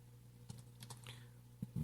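Keys tapped on a computer keyboard, a few scattered clicks over a steady low hum, with a louder cluster of strokes near the end.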